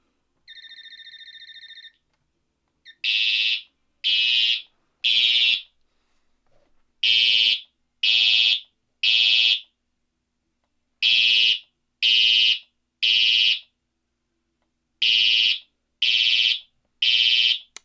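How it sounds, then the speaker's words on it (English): A loud fire alarm system in drill mode blares in a repeating pattern of three sharp pulses followed by pauses, after an initial steady tone, near and piercing. "Yeah, still a very loud alarm"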